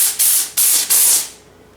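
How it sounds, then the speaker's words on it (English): A Grobell steam cleaner fires three loud hissing bursts of steam at full power in a home, each lasting about a third of a second with short gaps, the last trailing off into quiet. "it's ready to steam, full power."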